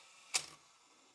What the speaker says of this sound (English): the camera will fire when it times down.